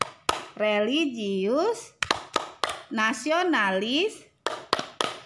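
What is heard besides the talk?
rhythmic hand clapping of the Tepuk PPK class clap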